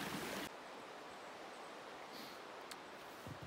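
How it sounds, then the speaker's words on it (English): Fryatt Creek running along a mountain trail, a steady broadband rush of flowing water, soft and continuous, with a brief louder rustle at the start and no talking. "Mostly the Fryatt Creek came up to meet us."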